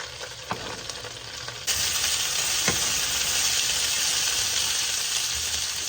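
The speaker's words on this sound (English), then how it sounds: "Stir my potatoes just so they'll cook quicker, and then I'll finish browning them." Potatoes fry in a pan and get stirred, with a few scrapes early on before the sizzle swells into a loud, steady hiss that holds for the rest of the clip without any voices.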